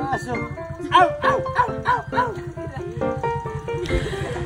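A dog named Kelly barks in a quick series of sharp yips and whiny barks at close range, overlapping with people talking nearby on a farm, then stops.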